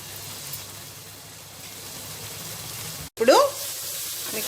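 A spoonful of yogurt drops into hot frying biryani masala with a brief burst of sizzling after a quiet stretch of low kitchen background noise.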